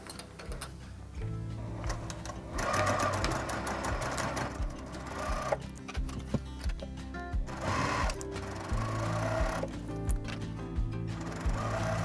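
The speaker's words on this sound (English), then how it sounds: "I'm going to back stitch a few times over the straps to reinforce them." A sewing machine back stitches over fabric straps in a few rapid, whirring bursts, running forward and back in short runs with brief pauses between, heard up close with no talking.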